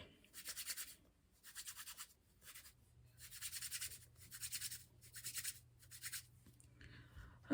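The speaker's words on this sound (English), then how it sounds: "Then I rub my hands together." Hands rubbing together over faux loc hair, making soft, close, rhythmic bursts of friction with short pauses between strokes and no voices.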